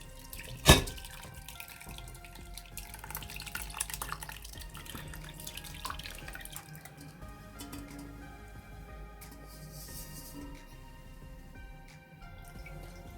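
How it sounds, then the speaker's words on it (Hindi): Plum sharbat pours through a strainer into a bowl with a soft, continuous liquid trickle and light drips, preceded by a sharp knock as the strainer is set down, fairly quiet and close. "अब इसके अंदर मैं ये शरबत डालूँगी ताकि इसके अंदर से इसके छिलके और गुठली अलग हो जाएं"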